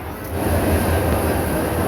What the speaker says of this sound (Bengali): কমলাপুর রেল স্টেশনে আরও একটি ট্রেন প্রবেশ করেছে